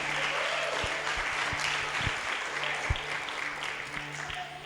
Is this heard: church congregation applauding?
yes